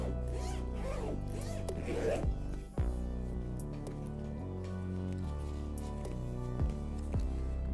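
A YKK AquaGuard zipper on the front quick-access pocket of a Wandrd Prvke 21L V3 backpack is pulled in quick rasping strokes, set against steady background music.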